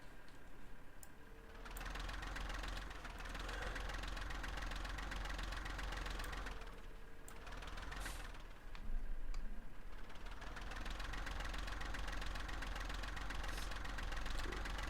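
A tractor engine idles in a farm sim video game, a steady low mechanical drone with a faint knocking pulse, holding level for the whole stretch apart from a couple of brief dips, with no talking.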